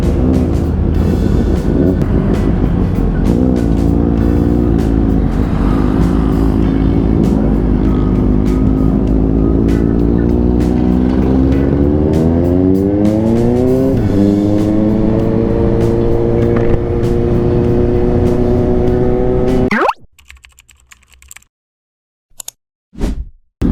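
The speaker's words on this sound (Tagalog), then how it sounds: "Ganda ng tunog ng TRK." Benelli TRK big-bike engine on a ride in Bataan, loud steady drone with the pitch climbing through the gears as it accelerates, then abruptly cutting to near silence with brief bumps.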